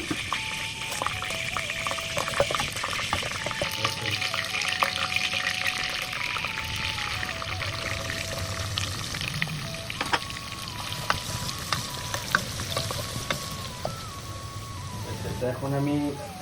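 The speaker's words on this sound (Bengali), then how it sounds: "এখন আমি পেঁয়াজটাকে হালকা একটু লাল করে নিতেছি" Onions fried in a generous amount of oil until lightly browned, a continuous close sizzle and crackle with occasional stirring scrapes, under a tonal musical background and some faint voice.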